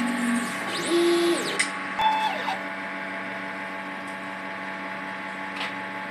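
A DTF printer runs a nozzle check, giving a steady mechanical hum with a few rising and falling electronic tones and brief clicks, moderately close, with no talk.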